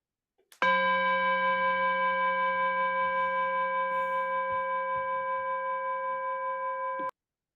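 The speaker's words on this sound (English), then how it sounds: "So I'll let you ring your bell, Teresa." One meditation bell is struck once, ringing out as a clear, steady tone that hums on for about six seconds before cutting off sharply, alone in a quiet room with no talking.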